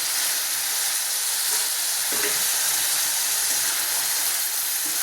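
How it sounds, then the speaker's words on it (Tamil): Tomatoes sautéing in a pan with ginger garlic paste, a dense continuous hiss of sizzling oil, steady and close throughout, with faint stirring taps and no speech. "இப்போ தக்காளி போட்டுடலாம்"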